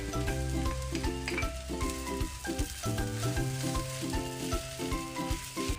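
Food sizzles steadily in a pan as it is stir-fried with soy sauce and oyster sauce, with a continuous crackle and repeated scraping stirs of a utensil, close and without voices.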